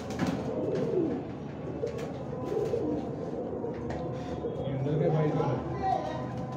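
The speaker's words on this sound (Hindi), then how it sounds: "ये मक्की वाले कबूतर हैं, बहुत अच्छा रिजल्ट है।" Makki pigeons at a rooftop loft coo softly and steadily in the background while someone talks over them.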